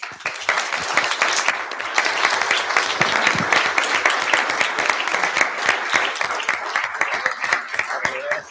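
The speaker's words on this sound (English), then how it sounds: "the Niskuna Town Board offers its personal commendation and applauds Chief Lingenfelter for his dedication" Audience at a town board meeting claps for a commended police chief, a sustained burst of many close, crisp hand claps with a few voices mixed in.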